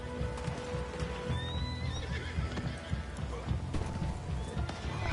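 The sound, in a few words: horse running and neighing in Red Dead Online video game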